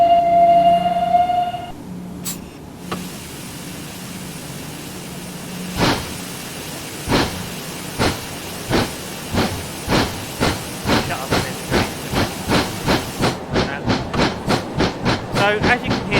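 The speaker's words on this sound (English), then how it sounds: "Let's drive the locomotive in here, like listen to how it sounds." RM P Class Atlantic steam locomotive in Train Simulator Classic: a sharp hiss of steam, then exhaust chuffs that start slow and widely spaced and quicken into a steady rapid rhythm as it pulls away, with a brief voice at the start.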